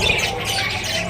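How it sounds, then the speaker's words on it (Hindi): Pet parrots and their young squawk and chirp loudly and close by in a short, continuous burst of harsh calls. "माशाल्लाह मेरे तोते, मुझे ये तोते बहुत पसंद हैं।"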